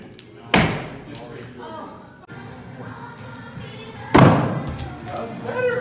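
Two heavy booming blasts from a small cannon at an outdoor pumpkin patch event, a few seconds apart, loud and close, with people talking and a crowd murmuring around them.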